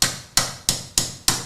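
A plastic-handle screwdriver taps the safety of a Ruger 10/22 rifle during a trigger job: five sharp, evenly spaced knocks about a third of a second apart, each close and loud with a quick decay.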